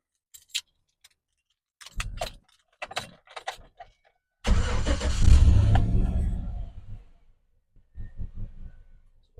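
A GMC Sierra 1500 pickup's V8 starts up. Keys jingle and a few sharp clicks come first, then the engine cranks and catches with a loud roar that eases toward idle. No one talks.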